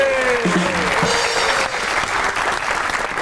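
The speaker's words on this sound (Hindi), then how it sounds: "आपकी बहुत सी तालियों में" Studio audience applause welcoming a guest onto a talk show, a loud, dense burst of clapping and cheering throughout, with a host's voice briefly heard over it at the start.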